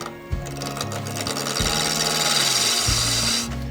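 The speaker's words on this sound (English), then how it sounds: "allow the lathe and the tool to work together and not try to force anything" A wood lathe spins an olive wood pen blank while a turning tool cuts into it, a steady close whir and hum with a rough scraping texture and a few brief shifts in pitch, with no talk.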